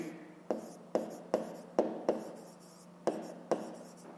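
Pen writing on paper during a 5th-grade math exercise on fractions, heard as a series of sharp scratchy strokes at an irregular rhythm, close and clear with no talking.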